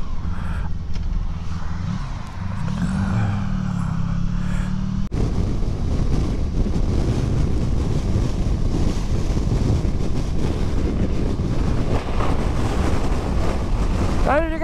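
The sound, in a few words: strong wind blowing while riding a motorcycle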